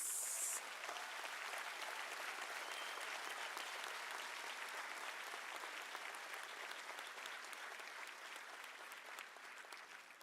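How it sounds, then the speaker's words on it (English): An audience at a University of South Africa autumn graduation ceremony claps in a sustained, even round of applause that fades slightly toward the end. "Let us give them a round of applause."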